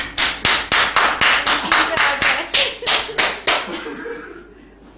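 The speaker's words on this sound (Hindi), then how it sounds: "आप सब जो है ना चारों हजरात ताली बजाइए इनके लिए" Audience clapping at a Hindi-Urdu talk show, for four guests: a loud, uneven burst of sharp claps in bunched pulses that fades out near the end.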